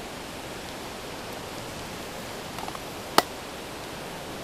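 Steady broadband rush of a waterfall on the Oirase stream, a continuous, even wash of falling water heard alone, with a brief sharp click near the end.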